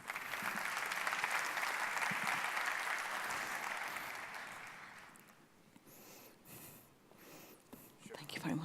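Steady, full audience applause rises to welcome the keynote speaker at an annual industry forum, sustained for several seconds before thinning out and fading.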